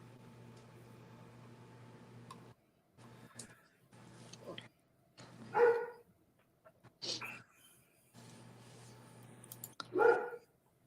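A dog at home gives a few sharp, separate barks spread over several seconds, close by. A person talks between them in a quiet room.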